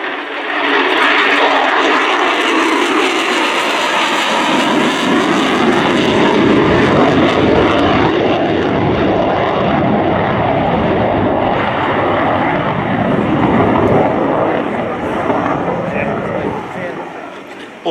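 An F-35B Lightning II jet roars through a demonstration flight at RIAT 2024, a loud, sustained, rumbling engine blast that swells and holds for the whole stretch before easing slightly at the end.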